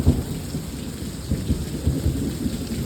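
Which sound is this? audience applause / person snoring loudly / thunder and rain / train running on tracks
thunder and rain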